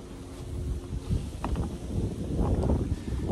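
Strong wind gusting outdoors in cold Michigan weather, buffeting the microphone in a steady low roar that swells and rumbles for a few seconds, with no talking.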